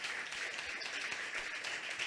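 Faint, distant crowd applause in a church-like gathering, a steady hiss of many hands clapping with no distinct individual claps.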